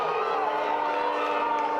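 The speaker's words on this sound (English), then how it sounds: "They're all booing." Disapproving crowd noise from soccer fans at a girls' high school semi-final playoff match, a steady sustained roar of voices filling the whole moment without a break.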